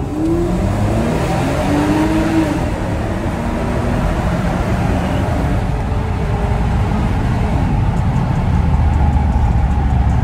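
Audi quattro all-wheel-drive car accelerating hard, a loud sustained engine drone with rising gear-by-gear pitch sweeps early on, then a dense steady roar of engine and road noise heard from inside the car.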